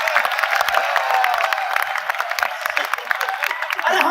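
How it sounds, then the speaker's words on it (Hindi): An audience at a Hindi comic poetry show claps in a steady crackling patter, mid-loud and continuous, with some voices mixed in. "तालियां कम आ रही हैं आपकी बड़ी सी।"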